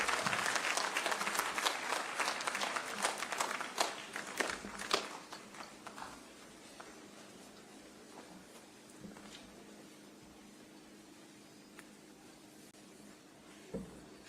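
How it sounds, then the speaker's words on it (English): A university graduation audience rises to applaud the president, a dense wave of clapping that fades over several seconds to scattered claps and shuffling in a large hall. "Let us all rise and welcome His Excellency with a clap."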